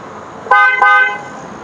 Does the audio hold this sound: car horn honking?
yes